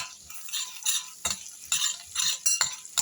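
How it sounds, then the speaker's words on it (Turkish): Garlic sautéing in melted butter with red pepper powder and flakes, heard as a soft sizzle broken by repeated spoon scrapes and clinks against the pan, close and steady. "Bir de sarımsakları kavuruyorum."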